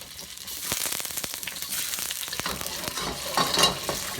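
Extra firm tofu fries in a pan with a steady sizzle, punctuated by scraping and clacking as the pieces get stirred and flipped, close and fairly loud throughout.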